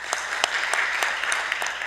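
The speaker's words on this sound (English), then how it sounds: "Valerio, maybe you can just give me a round of applause" A small workshop audience claps briefly, a short burst of scattered, fairly close hand claps.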